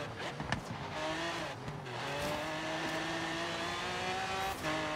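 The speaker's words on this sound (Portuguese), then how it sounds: "a minha Lamborghini é derrapando pra caramba" A Lamborghini engine in Forza Horizon 3 drones at steady revs, rising and shifting in pitch, with a few sharp squeals and clicks from skidding tires early on, and no talk.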